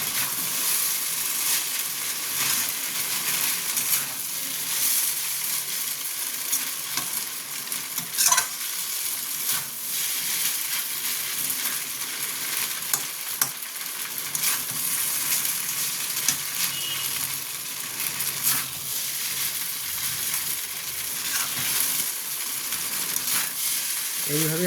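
Vegetables for veg chow mein fry in a pan with light soy sauce, a steady loud sizzle with stirring scrapes running throughout, close and continuous with no talking.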